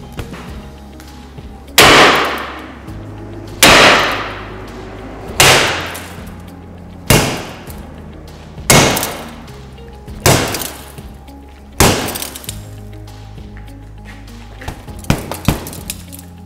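Repeated heavy blows against riot glass laminated with 3M safety film, about seven sharp cracking impacts at steady intervals, each ringing briefly with a glassy clink but no shattering.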